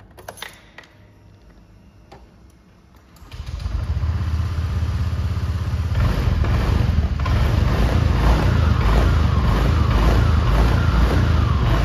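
A motorcycle engine with its chamber removed starts up and settles into a loud, steady idle with slight revving, running on alone after a quieter stretch of clicking and handling.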